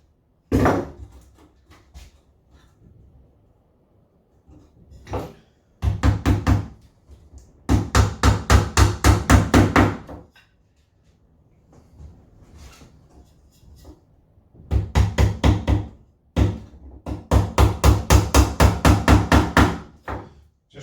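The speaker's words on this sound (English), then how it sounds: "at each point that the loop is, that's where we put in a nail" Hammer blows drive nails through a wooden wedge bar into a National Hoffman beehive frame, coming in tight rhythmic bursts of rapid knocks separated by short pauses, loud and close with no talking.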